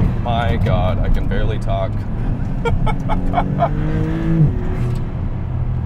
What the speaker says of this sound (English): strictly the amount of audible feedback I'm getting from the engine